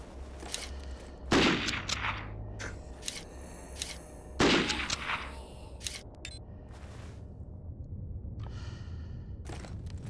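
Two loud rifle shots from a Winchester in the Zed Zone game, each a sharp crack with a ringing tail, spaced a few seconds apart, with quieter handling clicks between them.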